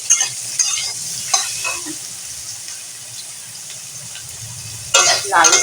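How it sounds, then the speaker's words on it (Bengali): Soya chunks frying in oil in a pan, giving a steady close sizzle with occasional stirring scrapes and a louder burst of spitting toward the end. "আমি তেল দিয়ে দিলাম আর এই সয়াবিনটাকে ভেজে নেব"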